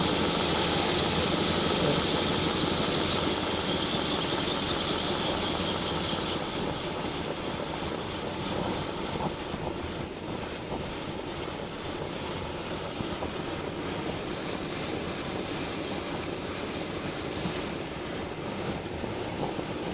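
A live steam Aster Berkshire model locomotive running, giving a constant, dense hiss and mechanical rumble at steady close range for the whole stretch, slightly louder at the start.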